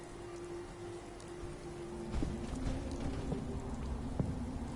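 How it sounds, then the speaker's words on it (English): Steady rain falls in the video game Fallout 4, a dense continuous hiss that grows slightly heavier partway through, with a few faint distant rumbles and drops. "of course it's foggy now and raining"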